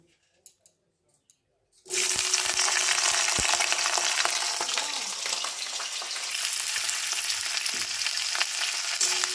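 Cauliflower pieces drop into hot oil in a wok after a near-silent pause, bursting into a loud, steady, close-up sizzle that carries on without break.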